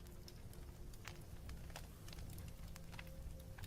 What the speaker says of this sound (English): I just started literally hearing crackling.